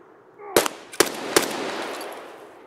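Three sharp, loud gunshots from Escape From Tarkov crack in quick succession, roughly half a second apart, each leaving a lingering echoing tail over quiet background.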